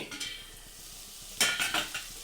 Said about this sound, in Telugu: ఉల్లిపాయలు బాగా మగ్గనిచ్చుకుందాము